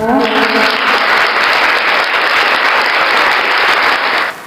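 A burst of lively applause from many hands, dense and loud, lasting about four seconds before stopping abruptly.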